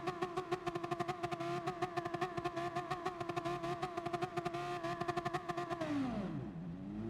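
Audi R8 race car engine in Gran Turismo Sport, a steady high-pitched buzzing drone held at high revs with rapid pulsing, then dropping in pitch and fading near the end.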